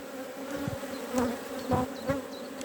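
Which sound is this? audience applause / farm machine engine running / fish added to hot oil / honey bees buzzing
honey bees buzzing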